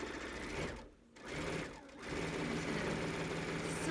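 A sewing machine runs steadily along the edge of a pillowcase cuff, stitching an enclosed seam in continuous bursts with two brief pauses, close and fairly loud.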